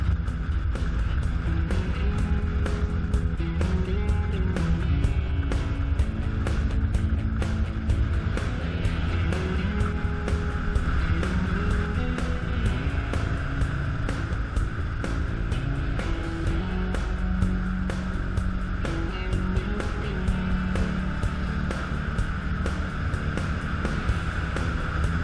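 A BMW 650 adventure motorcycle rides a gravel road on New Zealand's Canterbury Plains. Its engine holds a loud, steady drone with gently shifting pitch under constant wind rush and a rapid ticking patter of stones.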